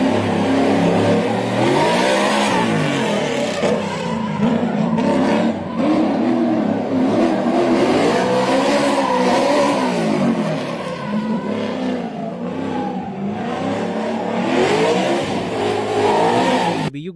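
A Ford S195 Mustang GT drift car with about 400 horsepower and a six-speed manual revs hard in a video game, its engine note rising and falling continuously and loud throughout, with no talking.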